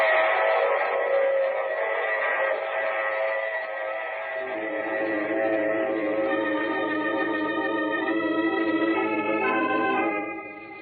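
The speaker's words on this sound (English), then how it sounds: "I take this same train every week at this same time." A train sound effect from an old-time radio drama plays with a loud, sustained chord-like whistle tone under rumbling carriage noise. The whistle holds and shifts pitch before cutting off near the end.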